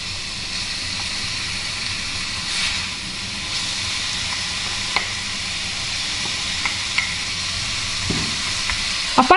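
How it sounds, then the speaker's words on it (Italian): Minced meat frying in two spoons of extra virgin olive oil in a pot for a Bari-style meat calzone, a steady loud sizzle and hiss with occasional stirring clicks. "Versiamo la carne macinata."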